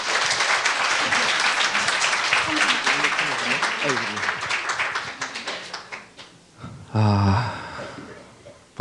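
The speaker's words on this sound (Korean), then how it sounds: "우리 선교사님 나오실 때 큰 박수로 우리 환영해 주십시오" A church audience breaks into loud, dense applause to welcome a missionary, with voices mixed into the clapping; it fades out after about six seconds and is followed by a brief tonal sound.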